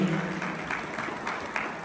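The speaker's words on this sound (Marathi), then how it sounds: "जोरदार टाळ्या झाला पाहिजे दोघांसाठी" A small group of friends gathered for a surprise claps for a couple, a brief stretch of scattered, moderately loud applause with some voices mixed in.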